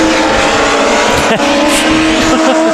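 Legend race cars competing at Irwindale Speedway, a loud sustained roar of several engines droning together, with a voice talking briefly under the noise.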